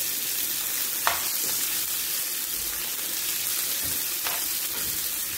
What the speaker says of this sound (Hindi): इनको हल्का हल्का फ्राई करना है हमें।